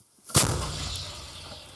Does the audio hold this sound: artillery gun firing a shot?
yes